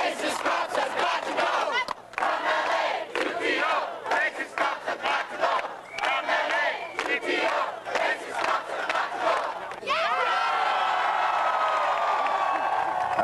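A large rioting crowd on Yonge Street in Toronto in 1992, dense roaring shouts and chanting voices surging in waves, loud and close, with a sustained swell of cheering near the end.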